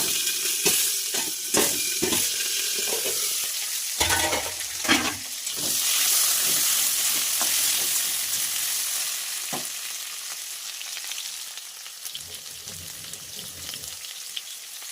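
Fish seasoned with turmeric and salt fries in a pan with a steady, loud sizzle and crackle, broken by sharp scraping bursts of stirring, then easing toward a quieter hiss near the end.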